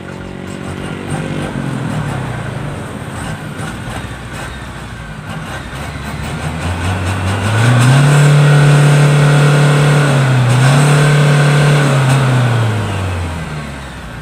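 An Isuzu 1.9 diesel engine idling with a steady clatter, then revving up to a loud sustained higher pitch, dipping briefly and holding before easing back down.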